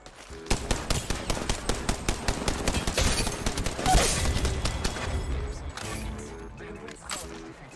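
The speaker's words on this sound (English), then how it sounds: "Gunshot is over there." Rapid automatic gunfire in the battle royale video game Apex Legends Mobile, a loud rattling burst of closely spaced shots that thins into scattered fire toward the end.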